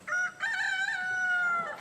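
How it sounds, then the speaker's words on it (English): A rooster crows loudly and close on a chicken farm, one long drawn-out call that rises and holds steady, with little else around it. "These kids are Miss Turnwald's chickens, her little money makers"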